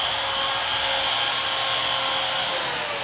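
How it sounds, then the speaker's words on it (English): Steady, loud whine of a wire wheel grinding on the frame of a 2006 Dodge Viper being repaired after frame damage, continuous and unbroken with no talk. "And I've been wire wheeling it."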